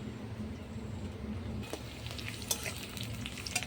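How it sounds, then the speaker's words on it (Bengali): Onions sizzle steadily in oil on a clay stove, with stirring scrapes and sharper crackles becoming more frequent toward the end. "পেঁয়াজটা ভাজা ভাজা হয়ে গেছে"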